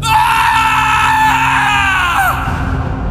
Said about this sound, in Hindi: ये देखकर राहुल की चीख निकल गई।